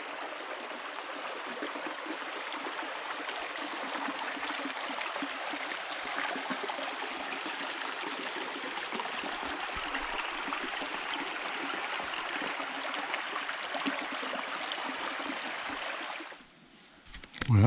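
A stream and waterfall at Brook Falls on the Cohos Trail make a steady, full rush of flowing water that holds evenly throughout before briefly dropping away at the very end.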